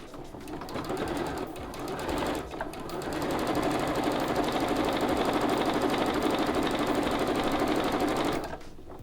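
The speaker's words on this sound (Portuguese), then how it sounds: "Alinha e aí você passa a costura aqui de 1/4" Sewing machine stitching quilt fabric strips together with a quarter-inch seam, a steady close whirring hum running continuously for several seconds with short pauses near the start and end.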